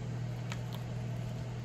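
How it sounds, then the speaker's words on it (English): A Ninja Foodi hums steadily in a kitchen, a low, constant electrical drone that stays faint and unchanging, with a couple of tiny clicks on top. "If you hear something humming in the background, that is the Ninja Foodie."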